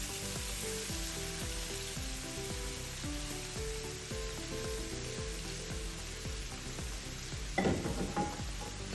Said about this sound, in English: All we gotta do is we're gonna go right in and saute our onions.